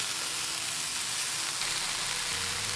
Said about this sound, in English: now I'm going to add the red cabbage and saute it a little bit